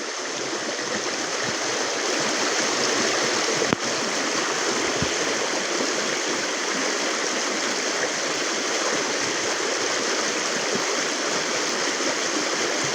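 Water rushes strongly through a stream at night during heavy rain, a dense, loud, unbroken roar close by with one brief knock partway through and no talking.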